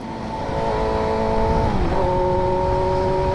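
A drag car launching hard in a traction test, engine roaring loud and close with a rising then shifting pitch as it pulls away, alone without talk.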